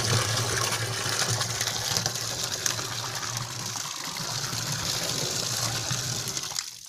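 Liquid gushes steadily into a container of homemade liquor mixed with oranges, cashews and chikoo, a continuous watery rush at close range for several seconds, with no talking.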